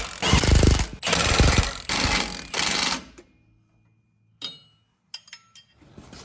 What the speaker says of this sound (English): So now I'm just going to snug up these bolts just to make sure everything stays in place.